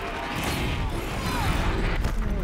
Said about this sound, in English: Whoa, that was big. Big explosion